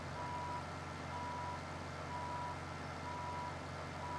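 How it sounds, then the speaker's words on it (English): Reversing beeps from a silage dump truck backing up in the Farming Simulator 17 game, a steady series of evenly spaced tones over a constant engine drone, with no talking. "And we'll dump the truck here in the same pile."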